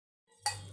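A kadai (wok) set down on a kitchen stove: a single quiet metallic clunk with a short ringing tail, heard alone after a moment of silence.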